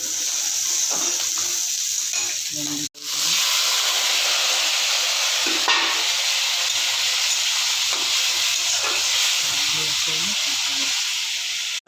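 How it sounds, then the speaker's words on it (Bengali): Onions frying in a pan while preparing a fish curry, a loud continuous hissing sizzle that cuts out briefly near three seconds and resumes steadily, no voices heard. "এই যে পেঁয়াজ ভাজা হচ্ছে"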